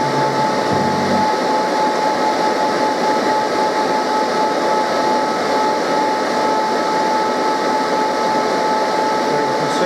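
A 2014 Harley-Davidson Electra Glide engine runs as its throttle is turned during a coolant service. It gives a loud, steady, unbroken drone with a constant whine and no clear revving swells, and no voices are heard.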